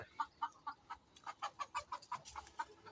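Chickens on a small rooftop farm: one clucks in quick, steady succession, a dozen or so short clucks close by with no voices.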